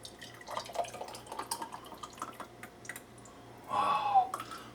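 Tomato French salad dressing from a 1952 Kraft recipe is poured from a container with onion still inside, a brief liquid gush near the end after a series of light taps and clicks in a kitchen.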